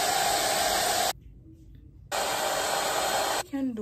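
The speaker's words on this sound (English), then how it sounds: "I put the hair dryer on the cool setting and I basically just dry them down." A hair dryer on the cool setting blows with a steady whooshing hiss, cuts off for about a second, then starts again before stopping briefly near the end.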